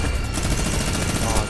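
Rapid gunfire from Fortnite rattles in a dense, loud burst of overlapping shots lasting about a second and a half, close and continuous.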